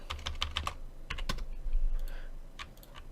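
Keys clatter on a computer keyboard in quick bursts of close, crisp taps, with short pauses between the flurries and no talking.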